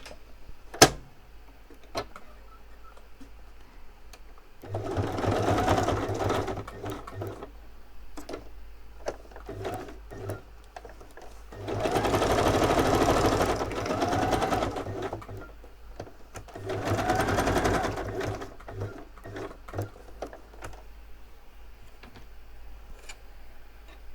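Bursts of a sewing machine stitching a zigzag across notebook paper, three runs of a few seconds each separated by quiet pauses with small handling taps.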